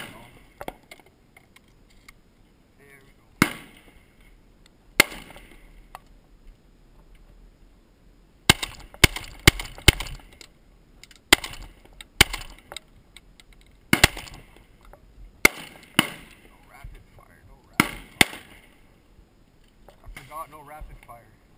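A 12 gauge shotgun fired outdoors in quick succession, sharp loud blasts arriving in irregular bursts with short quiet gaps between them, and voices faintly present in the background.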